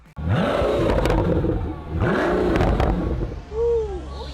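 Pagani Huayra Hermes Edition supercar engine revving in two long, loud surging blips, each rising and falling in pitch, followed by a shorter rev with a whistling turbo note near the end.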